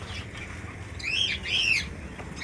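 Caged birds kept under a tin-roofed shed give two short chirping calls over a steady low background hum, moderately close and with no talking.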